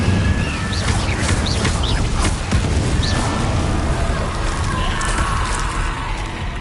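Incendio fire spell being cast repeatedly in the video game Hogwarts Legacy, a dense roar of whooshing fire and booming blasts with brief chirpy magical accents, loud and continuous throughout with no speech.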